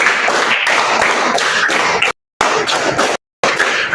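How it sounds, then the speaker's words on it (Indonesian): A classroom of children claps hands in rhythm, repeated loud bursts of many overlapping claps in steady groups with short pauses between sets. "Tepuk 4 3 kali."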